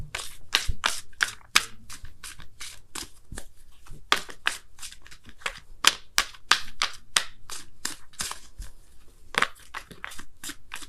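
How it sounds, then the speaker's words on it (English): Oracle cards being shuffled by hand, giving a close, steady run of crisp slapping riffles that repeats rapidly without pause and with no voice. "I'm going to pull you guys a Wisdom of the Oracle card as well for the week."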